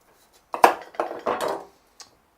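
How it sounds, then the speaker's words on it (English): Knife cuts the ends off a large cantaloupe on a cutting board, giving a few crisp, close thunks and scrapes in quick succession followed by one short tap. "Slice off the ends"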